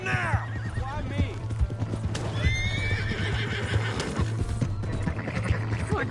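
Horse whinnying and clip-clopping hooves in a Western open-world video game, loud and continuous under busy game audio with music and a voice speaking over it.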